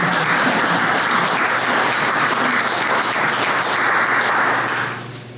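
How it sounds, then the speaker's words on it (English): An audience at a Friends of the LHSP annual meeting claps steadily and loudly for about five seconds before fading out abruptly, with no voices rising above the clapping. "Yeah, applaud, man."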